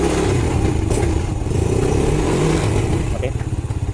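A Yamaha Vega ZR motorcycle fitted with a Honda Supra carburetor runs close by, its engine revving and rising with a chattering, pulsing tone, loud and continuous over the short stretch.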